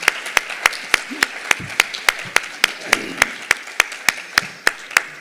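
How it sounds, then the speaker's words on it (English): Slow, evenly spaced claps at a school board candidate forum held by a PTA council in El Segundo, sharp and distinct one after another with a faint background murmur. "big round of applause, please, for all the candidates"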